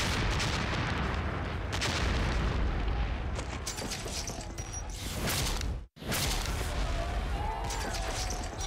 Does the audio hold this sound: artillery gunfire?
yes